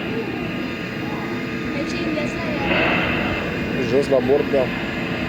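A Thrust SSC jet car simulator rolls forward with a loud, broad jet-engine roar that swells in the middle, while people talk over it.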